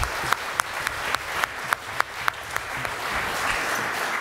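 Warm applause from an audience for two guests, a steady wash of clapping with a few sharp, distinct claps standing out near the front.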